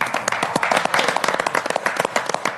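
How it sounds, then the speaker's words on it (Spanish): A crowd applauds Jorge Lanata at a live show, with dense, steady clapping throughout the short burst and no voices over it. "Un aplauso para Jorge Lanata."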